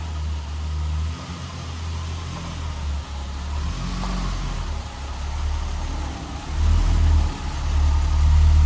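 A 1988 BMW 320i E30 six-cylinder engine idles with a steady low rumble, heard close and continuous, with a slight rise in revs near the end.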